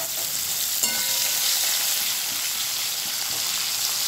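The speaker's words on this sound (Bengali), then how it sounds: "একটু হালকা করে ছোলাগুলো ভেজে নেব" Raw chickpeas frying in hot oil in a pan, a loud continuous sizzle with light stirring scrapes, close and steady throughout.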